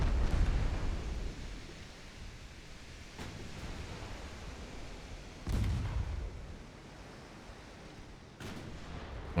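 Naval guns from warships fire on the cruiser Budapest in an 1893 Ottoman campaign strategy game, a few dull booming shots spaced seconds apart over a steady rushing background of sea and wind.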